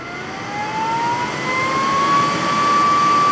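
A Comgrow smoke purifier for a 3D printer running at 100% gives a steady, loud whirring fan roar with a thin rising whine that settles into one constant tone.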